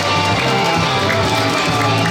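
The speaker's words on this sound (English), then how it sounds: "how about a big round of applause for Santa Snoopy?" A crowd at a Peanuts Christmas show during WinterFest at Canada's Wonderland claps and cheers for Santa Snoopy, a loud, dense wash of applause with shouts mixed in over a short, steady stretch.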